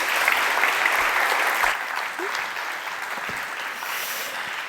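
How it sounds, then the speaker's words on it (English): Audience at a creativity forum plenary clapping together, loud and dense for under two seconds, then thinning into a softer, sparser patter that carries on to the end. "Big applause."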